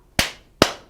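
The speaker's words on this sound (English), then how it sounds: "clap, clap 10, lift your arms" Two sharp hand claps about half a second apart during a counted exercise routine, close and crisp with no talk in between.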